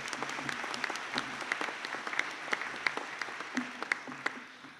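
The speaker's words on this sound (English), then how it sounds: "If we give Shanice a round of applause." Applause from a graduation ceremony audience, with distinct individual claps standing out over a softer, steady clatter of hands. Moderate in volume and even throughout, with no speech.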